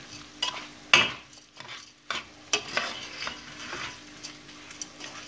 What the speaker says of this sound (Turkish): Ve tuzla da kavuralım biraz.